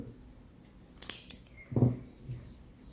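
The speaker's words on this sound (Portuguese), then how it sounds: "Aqui eu já vou cortar o fio." Scissors snip through yarn while making an amigurumi doll: a couple of quick sharp snips near the start, then a soft rustle, all faint and close with no voices.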